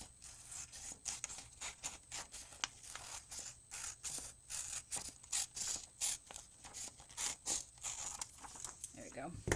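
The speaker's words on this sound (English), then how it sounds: "I'm just going to take this and just cut a curve." Heat transfer vinyl being trimmed to a curve, repeated short scraping snips in an uneven rhythm, close and clear, with a person talking quietly in between.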